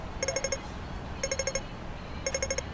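A traffic light's crossing signal gives three quick bursts of bright electronic beeps as it is about to change from green to red, each a rapid run of about five tones, repeating at steady one-second intervals over a low background hum.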